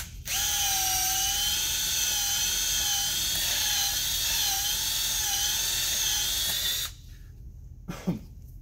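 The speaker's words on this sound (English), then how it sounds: "Now you see me using a drill." A power drill widens a screw puncture hole in a car tire removed from the vehicle for repair: a loud, steady high-pitched whine runs for about six and a half seconds, then cuts off, followed by a faint knock.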